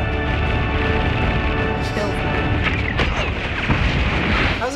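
Loud, booming blasts and rumbling impacts from The Hunger Games: Mockingjay Part 1 trailer roll through a dense, cinematic mix with swelling music and whooshes, continuous and heavy throughout.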